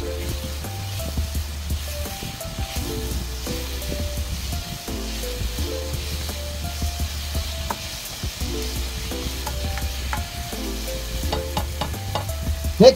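Food being stirred and mixed in a hot pan for a vegetable dish, a steady sizzle with scraping and clinking utensil strokes throughout, close and continuous with no talking.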